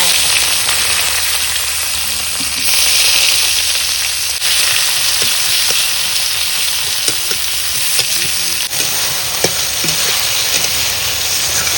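Cumin seeds sizzle as they drop into hot oil for a home-cooked Bengali fish curry, a loud, steady frying hiss that runs throughout, with small pops and a few light utensil clinks.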